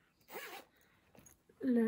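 Jacket zipper handled up close, heard as short rasping zip pulls in separate bursts with a brief tick between them, quiet and isolated before a voice begins at the end.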